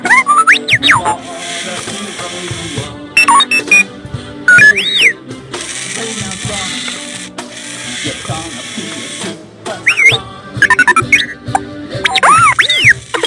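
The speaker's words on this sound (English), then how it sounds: "One more time about your sound effects, R2-D2." An R2-D2 droid toy plays its electronic sound effects: rapid chirping whistles, warbling beeps and mechanical clicks in bursts, close and loud.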